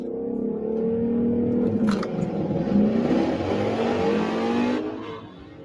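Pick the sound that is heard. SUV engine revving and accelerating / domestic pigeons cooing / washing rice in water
SUV engine revving and accelerating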